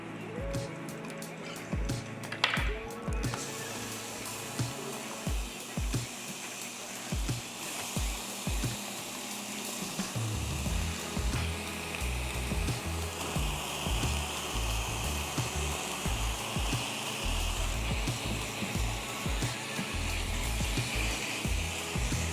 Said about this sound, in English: We're gonna cut a slit through it and just add it to our skillet.